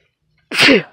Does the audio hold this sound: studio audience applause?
no